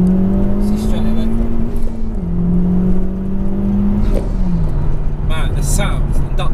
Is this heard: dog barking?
no